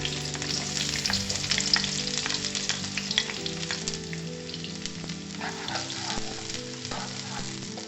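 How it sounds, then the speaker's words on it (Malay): Onions sauté in a little hot oil for a mixed vegetable stir-fry: a loud, continuous sizzle close by, with occasional scraping stirs and crackles breaking through. "Tumiskan bawang."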